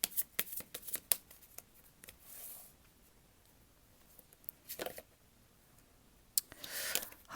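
Tarot cards shuffled by hand in several bursts, crisp riffling and flicking with short pauses between, close and fairly quiet with no talking.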